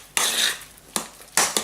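Spoon folding icing sugar into a cheesecake mixture in a bowl, three short scraping, clinking strokes close up, with brief pauses between them.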